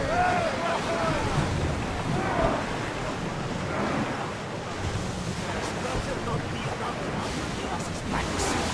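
Sailing ship cutting through open sea in Assassin's Creed Odyssey, with a constant rush of waves and wind around the hull, while characters talk over it.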